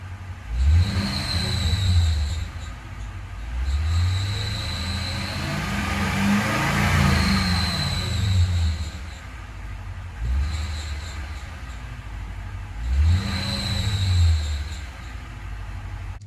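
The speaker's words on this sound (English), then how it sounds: "I will insert a video of the squeak I had when it's wet and humid" A squeaking serpentine belt on a Toyota Tundra 5.7 V8 in wet, humid conditions: high, thin squeals repeating with each engine rev over a rising and falling motor hum, in several distinct bursts.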